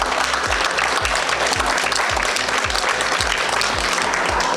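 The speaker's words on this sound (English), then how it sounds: "he deserves a round of applause right now." Dense, steady applause from a room full of people at a leadership talk, continuous clapping throughout with a faint rhythmic low thumping underneath and no speech.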